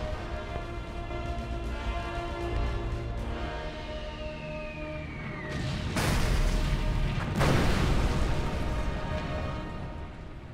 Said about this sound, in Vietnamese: Các chiến hạm, bắn về phía pháo đài đi.